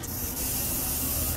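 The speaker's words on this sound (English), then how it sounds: "So I'm gonna spray paint first." A Rust-Oleum gold metallic spray paint can sprays in one steady, close hiss lasting about a second and a half, with a brief break near the start and a quick cutoff at the end.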